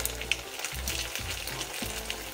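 A Lidl Sol&Mar shrimp pancake fries in a pan with a steady, close hiss and crackle of oil. Soft low thumps from the pan or utensil break in at intervals underneath.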